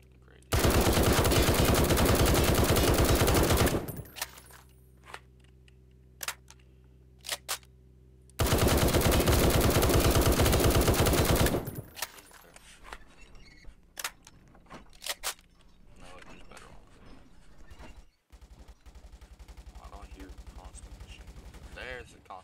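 Long sustained bursts of machine gun fire in War Tycoon, a World War II tank warfare game: two loud continuous volleys a few seconds each, with scattered short shots, clicks and quieter battlefield noise in between.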